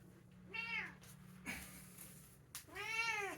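A pet cat meows twice while being held, each call a clear rising-falling wail, with a low steady hum and faint handling noises in between; no one speaks.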